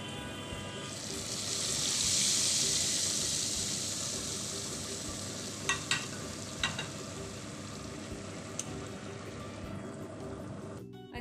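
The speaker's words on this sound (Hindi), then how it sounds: "अभी दाल को भी तड़का लगा लिया है मैंने बस" Steady sizzle of spices frying in hot oil for a dal tempering, moderately close, with a few sharp clinks of a utensil partway through and a clatter at the end.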